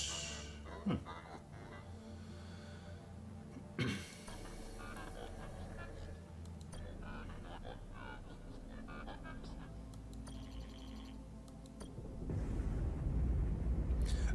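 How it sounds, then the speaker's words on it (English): A deep, rumbling explosion in the sci-fi strategy game Crying Suns swells near the end, after two sharper impacts earlier and a low ambient hum. "Explosion!"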